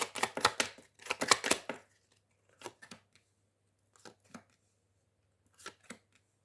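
Tarot cards being shuffled by hand in two quick bursts of rapid riffling, followed by a few softer, scattered card flicks and slides, close and clear with no talking.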